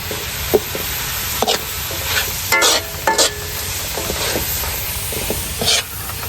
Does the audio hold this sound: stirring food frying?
yes